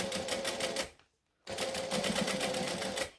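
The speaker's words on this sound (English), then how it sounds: "I'm just going to roll this as I'm stitching" A sewing machine top stitches a wallet in two close, steady whirring bursts with a rapid pulsing rhythm, split by a short silent pause.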